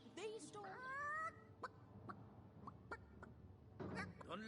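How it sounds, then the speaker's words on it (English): A rooster clucks and squawks in a few short bursts in the fantasy game Divinity: Original Sin, close and fairly loud, with quieter taps and rustles between calls. "Don't let that rooster escape."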